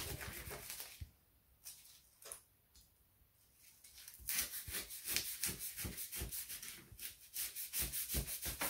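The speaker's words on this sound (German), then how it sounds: "wir schneiden jetzt hier nochmal kleine Stücke draus" Small pieces are cut from recycled scrap material to make Nerf target stands. Close, rhythmic rasping strokes start softly and become a steady, louder run of scraping cuts.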